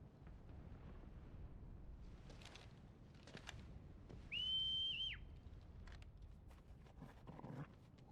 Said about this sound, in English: the whistle was for the chocobo usually